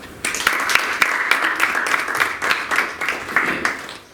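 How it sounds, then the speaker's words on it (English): An audience at a school public speaking contest breaks into applause for a contestant, a steady, close burst of many hands clapping that starts abruptly and continues throughout. "A great applause for Jaime Tarazona."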